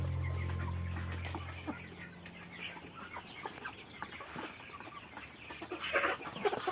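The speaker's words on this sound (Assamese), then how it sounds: "এয়া ব্ৰইলাৰ ডাঙৰ ব্ৰইলাৰ এয়া আৰু এয়া কয়লাৰৰ ডাঙৰ কয়লাৰ" Broiler and layer chickens on a farm cluck in scattered, overlapping calls, fairly faint and close-by, with a low steady hum fading out in the first few seconds.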